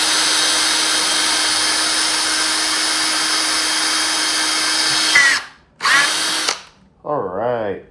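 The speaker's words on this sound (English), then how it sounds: "now that's drilled" Power drill boring through the plastic back piece of a BMW E39 ashtray, a loud steady whining drone close up that cuts off, briefly restarts, then stops.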